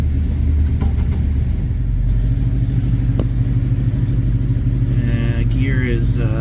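A Jeep J10 engine, freshly reassembled ahead of a rebuild, runs in gear at about 700 RPM, giving a steady, close, throbbing low rumble throughout, with a faint voice briefly near the end.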